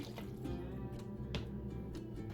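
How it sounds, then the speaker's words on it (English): Hot lye water poured onto hard oils (cocoa butter, palm oil, shea butter, coconut oil) for a one-pound soap batch, giving a steady close liquid wash with a few small drip-like ticks, no talking. "and in goes my lye water."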